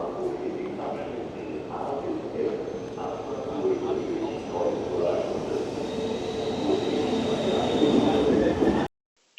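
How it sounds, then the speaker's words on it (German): An ICE 2 high-speed train pulls into a station with a steady rumbling roar, rail noise and faint squeals that grow slightly louder before cutting off abruptly, with people talking over it. "Unser ICE erhält nun Einfahrt. Es ist ein ICE 2."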